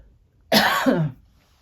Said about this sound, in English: every once in a while, like now, get this little cough